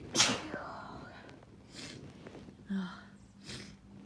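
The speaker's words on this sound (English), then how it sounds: "I do not know when the sneezes are gonna stop." A woman with grass allergies gives a sharp, close sneeze at the start, followed by breathy sniffs and snorts. A second, softer sneeze-like burst comes near the end of a quiet indoor fit.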